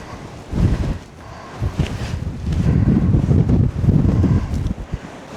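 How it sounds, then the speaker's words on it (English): Strong southwesterly wind buffets the microphone on an open Lake District fell, a loud, continuous low roar rising and falling in gusts with no other sounds. "It sounds like I'm going to get battered by the wind in a minute. It's getting quite strong."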